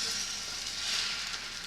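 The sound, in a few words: scrambled eggs sizzling in a pan, stirred with a fork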